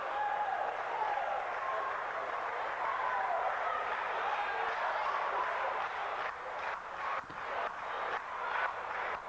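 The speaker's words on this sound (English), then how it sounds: "the crowd urging Tommy Gilbert on here" Wrestling arena crowd cheering Tommy Gilbert during his match with Ian Rotten, a steady dense roar of voices with bursts of clapping and shouts breaking through toward the end.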